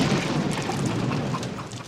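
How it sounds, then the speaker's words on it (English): Steady, dense rain with a low rumble of thunder in a scene from the 1992 film Death Becomes Her, loud and continuous throughout with no voices. "And it starts raining on cue."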